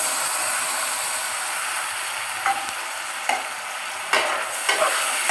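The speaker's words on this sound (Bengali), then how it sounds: "কাঁঠাল বিচিগুলো মশলার সাথে একটু ভাজা ভাজা হয়ে আসছে" Jackfruit seeds frying with spices in a pan, a loud steady sizzle broken by several sharp spatula scrapes and knocks as they are stirred, with no talking.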